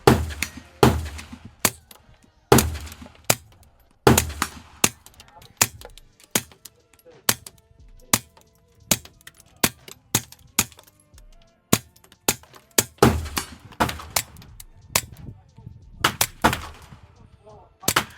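Suppressed .22 rifle shots through a Warrior Systems Legionary suppressor fire outdoors at steel targets: sharp muffled cracks in an irregular series of dozens, some followed by faint metallic pings, loud and close.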